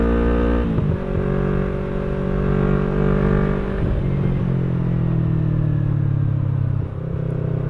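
A Yamaha R3 motorcycle engine drones close by while riding, a loud, steady rumble with rising and falling pitch as the throttle shifts.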